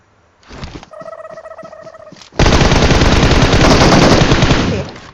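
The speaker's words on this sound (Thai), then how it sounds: "ยิงอะไรวะน่ะ" Gunfire in the battle royale game PUBG Mobile: a short burst of rapid clipped shots, a pause with electronic beeps, then a loud sustained stream of automatic fire lasting several seconds.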